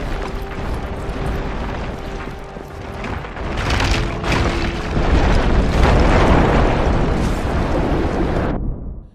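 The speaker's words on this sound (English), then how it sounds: "Many buildings and cars are your tools to create the biggest explosions." Explosions in the video game Just Cause 3, a dense rumbling blast with crackling bursts that swells through the middle and cuts off abruptly near the end, loud with no talk.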